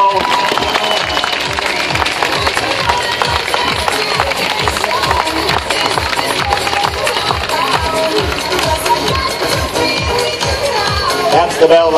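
Spectators at a track race clap and cheer steadily throughout, a dense crowd roar with a pulsing rhythm, loud and continuous under an announcer's voice.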